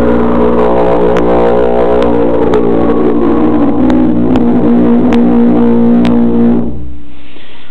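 Sousaphone played with multiphonics, the player singing one note while blowing another, producing a loud buzzy sustained double tone with sliding, wavering pitch that holds for several seconds and then cuts off.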